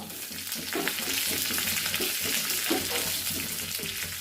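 Shallots and fresh curry leaves fry in hot oil for a rasam tempering, giving a steady, close crackling sizzle with occasional stirring scrapes throughout.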